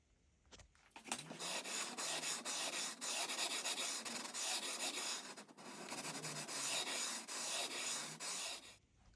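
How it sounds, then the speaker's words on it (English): Long sanding block rubbed back and forth along the top edge of a Jazz Bass neck to round it off. The rasping strokes are steady and close, running continuously with brief dips between passes. "a big long sanding block like this works well. So we're just going to rub that up the top edge first along here"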